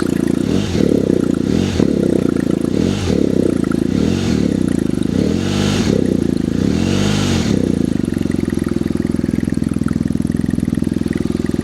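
A BMW R1250/R1200 GS Adventure motorcycle engine revs repeatedly in short bursts, then settles into a steady, loud running drone at 3,000 rpm with a faint ticking clatter.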